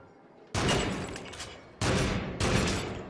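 Gunfire at targets in Until Dawn: Rush of Blood: three loud, sharp gunshots, each with a lingering booming tail, the first after a short quiet lead-in and the last two close together.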